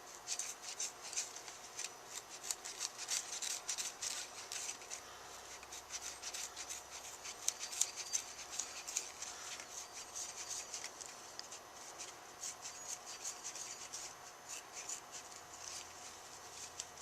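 Steady rasping, rubbing cuts through a 2-inch racing harness belt as its end loop is removed, continuous and close for the whole stretch with no talk over it.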